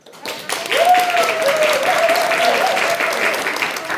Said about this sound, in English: give us a clap for the people who have seen, even if it's just on television, doesn't matter, have seen some improvisation before